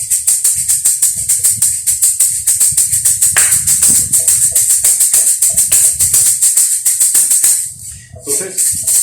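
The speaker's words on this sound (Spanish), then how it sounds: "es un cilindro también de madera relleno de unas bolitas de metal" A wooden cylinder shaker filled with small metal balls rattles in a fast, steady rhythm, close and fairly loud, a bright hissing shuffle with regular accents that continues alone for several seconds.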